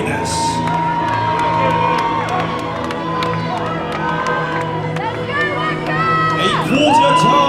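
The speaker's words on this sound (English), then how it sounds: "Audience members, can we have a round of applause for your bodybuilding winners?" A crowd at a natural bodybuilding show cheers, whoops and shouts loudly for the winners, with excited voices ringing out over continuous crowd noise throughout.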